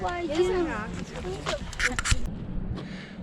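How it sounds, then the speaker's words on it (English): Geese close by give short nasal honks and calls, mixed in with a person speaking nearby. "So there are geese right here that have strategically placed themselves."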